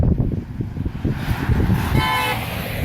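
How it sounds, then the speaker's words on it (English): Volvo semi truck horn sounding in a short blast near the end, fairly loud over steady road traffic noise. "I hope you guys heard that horn."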